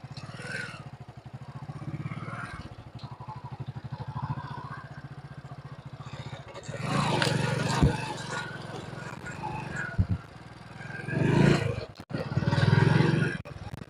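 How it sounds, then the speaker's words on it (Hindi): Hero Splendor Plus motorcycle pulling away and riding off after a hard start, its engine note swelling louder in bursts toward the end, with a steady idle-like drone before and some rattling clatter. "तो अभी हम यहाँ पर आगे ले जाएंगे और देखते हैं कि कितना चलता है हमारा बाइक।"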